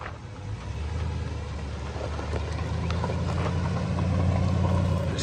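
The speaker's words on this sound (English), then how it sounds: "He'll fire it up, give you a nice demo. Starts right up there." 1999 Chevrolet 3500 truck engine running after starting up, a steady low rumbling idle that grows slightly louder and fuller toward the end, heard alone without talk.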